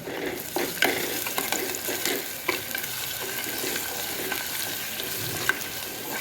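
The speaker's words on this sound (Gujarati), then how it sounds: "હવે આપણે તેમાં કટ કરેલા કાંદા એડ કરીશું અને મિક્સ કરી દઈશું." Chopped onions stirred into masala frying in oil make a continuous crackling sizzle, with occasional scraping of a spoon against the pan, close and steady, with no voices.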